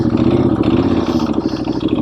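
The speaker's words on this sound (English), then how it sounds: "It's got a great sound. Air-cooled, push-rod engine," 2014 Norton Commando 961 SF with an air-cooled push-rod engine and 5-speed transmission, running loud and close with a steady rumbling, throbbing idle and no voices.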